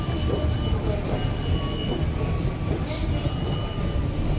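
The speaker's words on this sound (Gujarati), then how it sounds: "જો અહીંયાથી આવશે આપણી ટ્રેન." A metro train approaches a crowded station platform with a steady, loud, low rumble and hum that holds evenly throughout, with faint voices and faint tonal whines layered above it.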